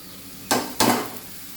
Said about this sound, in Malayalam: നമുക്കിനി വറക്കാം